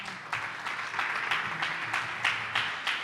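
A church congregation claps together in a quick, even rhythm, several rounds of hand claps that sound moderately distant and fairly soft.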